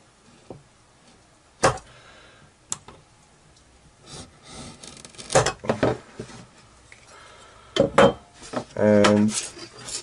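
A sharp knife scores a wooden workpiece along a square while a marking gauge is being made, giving several scraping, clicking strokes of uneven length amid handling knocks, with a faint voice in the background.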